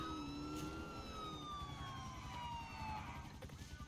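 A police siren in the Need for Speed Most Wanted video game wails with falling tones, fairly faint and steady, with no talking.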